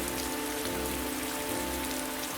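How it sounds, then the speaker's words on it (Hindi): Heavy rain pours steadily in a cartoon story, a dense, even hiss of drops on surfaces filling the whole stretch at constant loudness, with faint sustained tones of background music beneath. "ये बारिश तो जैसे कहर बनकर टूटी है।"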